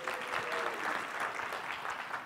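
An audience claps steadily for a couple of seconds at a student follies show, rewarding someone who has just cut a rope onstage. The applause is fairly full and even throughout.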